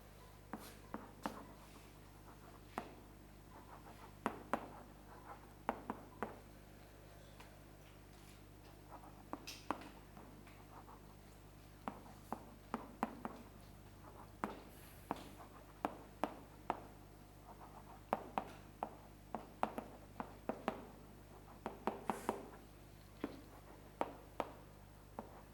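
A pen writes out a verse by hand on paper, close and quiet, with soft scratching strokes and small clicking taps recurring in irregular bursts over a faint steady hum.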